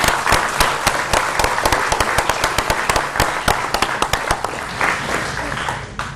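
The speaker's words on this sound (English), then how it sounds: "a big round of applause to Obi and his team" Audience applause following a space station downlink broadcast, dense sharp claps in a steady, loud burst that holds for several seconds and tapers slightly at the end.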